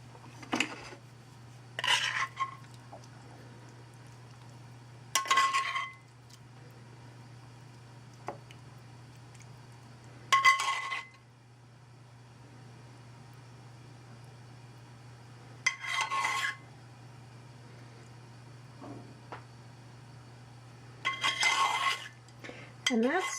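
Dishes and cutlery being cleared away in a kitchen after preparing a beef salad, several short clattering bursts of clinking plates and utensils separated by quiet gaps over a low steady hum.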